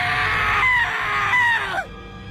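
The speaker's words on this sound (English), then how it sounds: "I finally snapped out of it and screamed at the top of my lungs." A single drawn-out scream from an animated horror story, loud and high-pitched, wavering for about two seconds before breaking off abruptly.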